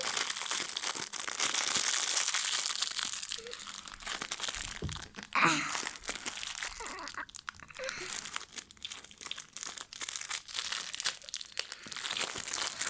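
Plastic toy packaging crinkles and crackles up close, with bursts of tearing and crunching as it is pulled open by hand, steady and fairly loud throughout.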